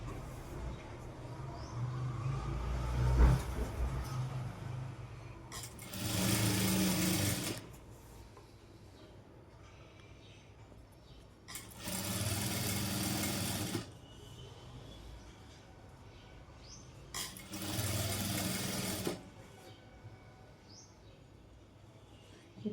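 A sewing machine top stitches a Punjabi dress in three separate short runs of rapid mechanical whirring. Each run is loud and close, with quiet pauses and faint background noise between them.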